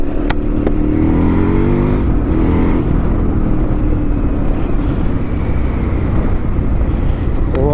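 A KTM 990 Adventure motorcycle rides off-road through autumn fields and forest. Its engine roars loud and close as it revs and changes speed, with heavy wind and rumble throughout and no speech.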